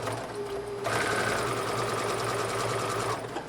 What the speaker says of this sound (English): we're going to do a straight stitch at 5/8 inch all the way around this curve